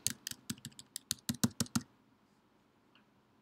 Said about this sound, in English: You type in the code and you click I accept the term and condition